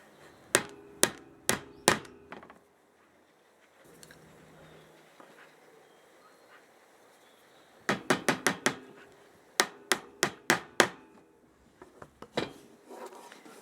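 Sharp, close hammer strikes drive nails into a wooden 14x12 bee brood frame, falling in quick bursts of four or five blows separated by quiet pauses.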